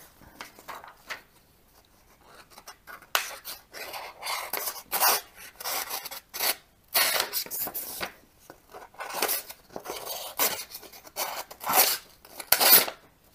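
Dull, blunted knife making a test cut, heard as faint, uneven scraping and crunching strokes in irregular bursts with quiet gaps between, close up and without talking.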